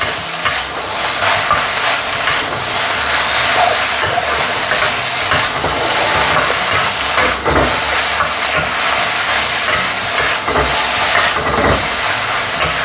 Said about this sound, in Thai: ผมก็จะใส่แหนมลงไปนะครับ ตามด้วยพริกขี้ฟ้ากับพริกขี้หนูนะครับ แล้วก็คั่วต่อนะครับ